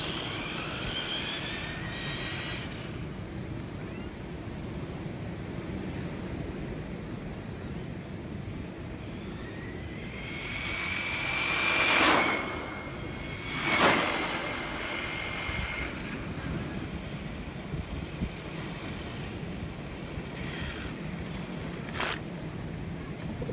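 A Carisma M10DB RC car with a 5200 kV motor on a speed run, a high electric motor whine that rises and falls as the car passes close twice, over steady background noise.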